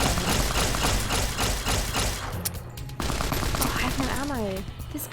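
Rapid bursts of video game gunfire in Fallout: New Vegas, loud dense automatic shots for the first half, then thumps and a warbling sound effect, with a voice briefly audible.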